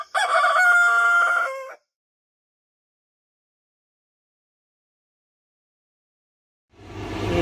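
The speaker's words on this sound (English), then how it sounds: "this rooster and one of George's roosters do this with each other. They call back and forth" A rooster gives one loud, close crow lasting nearly two seconds, followed by several seconds of silence before another loud burst of sound starts near the end, as roosters on a farm call back and forth.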